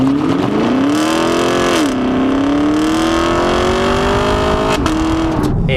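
A bumblebee-yellow 2019 Camaro 2SS with an automatic transmission launches hard off the line, its V8 note rising loudly and steadily through a gear shift near two seconds and another near five, close and alone.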